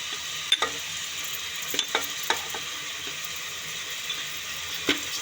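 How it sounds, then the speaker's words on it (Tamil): Small chopped big onions frying in hot oil in a pan for pepper chicken gravy make a low, steady sizzle, broken now and then by the scrape and clink of a stirring spoon, with no speech. "இப்போது ஆனியன் போடலாம்."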